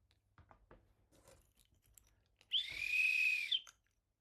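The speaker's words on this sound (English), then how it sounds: "Is that a good start whistle for a game?" A single short, shrill referee whistle blast lasting about a second, loud and close, after some quiet clicks and rustling, as a game start whistle.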